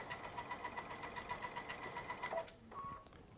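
Baby Lock Altair sewing machine stitching bobbin work with metallic cording, a rapid even mechanical chatter at steady speed that stops abruptly, followed by a short quiet whir and soft clicks.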